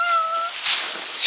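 A cat meows at a campsite, one drawn-out clear meow followed by two shorter, breathier cries close to the microphone, with no talking.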